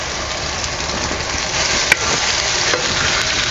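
Spring onion greens dropped into a pan of softened tomatoes and vegetables, giving a steady close sizzle and frying hiss with a brief clatter as they go in, no talking.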